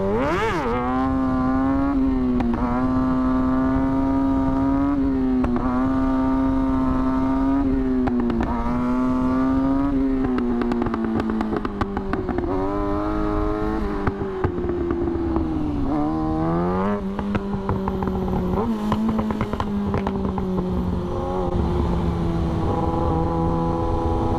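A 2023 Kawasaki ZX6R sport bike revs hard and loud up close as the rider pulls a wheelie, its engine note rising and falling in repeated surges of acceleration throughout, with no talking.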